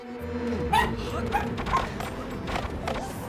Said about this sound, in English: Yeah, that's my dog barking.